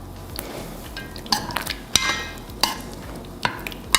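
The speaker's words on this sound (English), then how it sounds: "We're going to pour that in, mix it in, and cook for a couple minutes until the sauce has thickened up nicely" A spoon stirs cornstarch slurry into a coconut milk lamb curry in a pan, with repeated close scraping and clinking strokes over a soft bubbling simmer.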